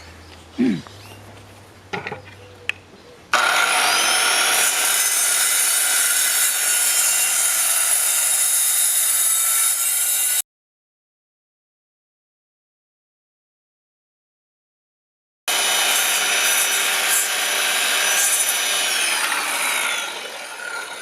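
A power saw cuts a dado in wood, its loud whining buzz running steadily for several seconds, stopping for a gap of silence, then resuming as the blade is slid back and forth; a few knocks come first.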